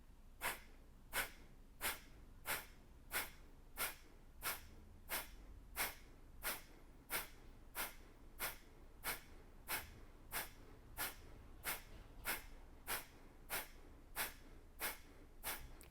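Steady series of sharp, forceful nasal exhales in a breathing exercise, about one every two-thirds of a second, each a crisp puff close to the listener with quiet passive inhales between them.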